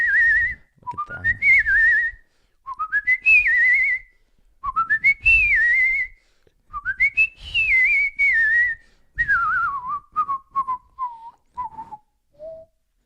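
A person whistles a lively tune up close, phrases rising and wavering in pitch with brief pauses between them, ending on a few short descending notes.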